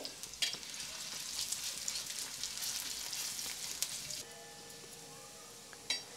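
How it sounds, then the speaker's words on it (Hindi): Onions sizzle steadily in hot oil, a soft crackling hiss that drops after a few seconds, with an occasional clink of a utensil. "प्याज को हल्का सा सुनहरी होने तक फ्राई कर लेते हैं"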